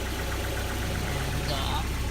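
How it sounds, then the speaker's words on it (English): A 1.8L NA Mazda Miata engine idles steadily, a low continuous hum with a faint, fast ticking from the hydraulic lifters running through it, close to the microphone. "Hydraulic lifters tend to be pretty noisy on this car."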